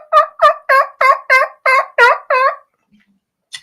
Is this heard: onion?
no